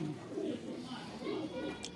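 Pigeon cooing, a prized two-in-one fancy breed kept by a Pakistani pigeon fancier, low soft coos repeating in slow pulses, close by, with some faint background noise.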